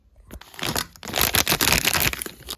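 Plastic wrapping crinkles and tears as a heart-shaped bag package is opened, a close, busy rustling that swells after the first second and carries on to the end, with no talking.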